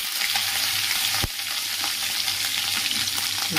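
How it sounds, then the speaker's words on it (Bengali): Grated coconut sizzles and crackles in hot oil in a wok, a steady close frying hiss with one brief sharp clunk near the start and no speech. "নারকেল একটু ভাজা ভাজা হবে।"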